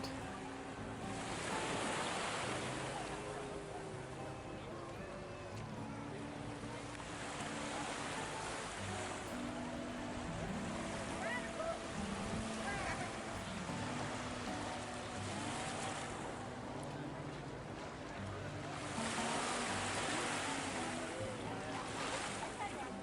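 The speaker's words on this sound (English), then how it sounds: "we started our exploration of Kuhio Beach, which is the beach right in front of the Hyatt" Ocean surf rolls in at Kuhio Beach on Oahu, a broad washing roar that swells and recedes in slow surges, mixed with wind buffeting the microphone.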